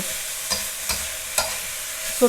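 Minced pork with long beans, red and green chillies and holy basil leaves is stir-fried over a steady sizzle, while a spatula scrapes the pan in four distinct strokes.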